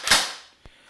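A JG Golden Eagle M4 CQB airsoft gun fires a single shot, a sharp close snap followed by a faint mechanical click.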